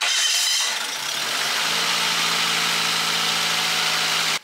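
A car engine cranks and catches, then settles into a steady, droning idle that continues until cut off abruptly.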